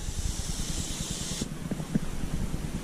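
Tuff Stuff foam cleaner sprays onto a car's interior in a steady, close hiss lasting about a second and a half, then cuts off, leaving soft low handling and rubbing noises.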